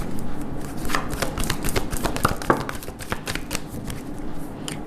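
Tarot cards are shuffled by hand, close and crisp, with a steady run of rapid riffling slaps and flutters that continues throughout.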